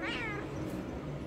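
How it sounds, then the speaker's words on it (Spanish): A house cat gives a single short meow at the start, close and clear, then fades into quiet room noise. "La gata está viéndolo, no le hace nada."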